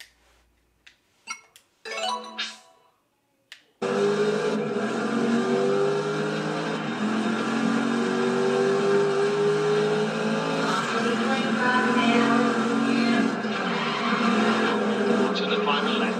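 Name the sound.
racing car engines in a video game on Amazon Luna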